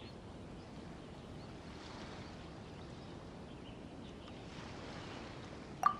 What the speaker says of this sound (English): You mean the sound of the ocean?